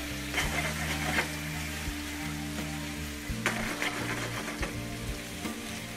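Potatoes seasoned with salt and pepper frying in a pan, a continuous loud sizzle with intermittent stirring scrapes, close up, without speech.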